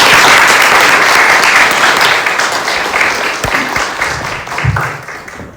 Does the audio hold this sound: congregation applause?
yes